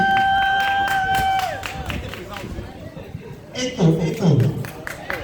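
An audience applauds the president of the association of former MIFI residents at a gathering. Scattered claps run throughout amid crowd hubbub, and voices speak over the noise.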